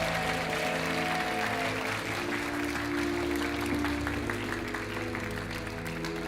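Studio audience applause on the French TV game show Money Drop, a steady, dense wash of clapping that fills the whole stretch under a low hum of studio music and background tones.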